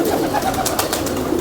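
Pigeons cooing steadily in a loft setting, a continuous close murmur of soft throaty coos with a few brighter flutters over it, and no talk.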